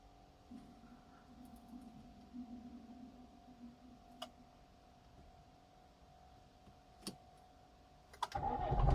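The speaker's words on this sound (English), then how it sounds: "Let me switch off the engine," A Peugeot 406 V6 manual, just repaired after an intake manifold gasket misfire, sits quiet under a low hum and a couple of clicks, then cranks and catches loudly in the final second.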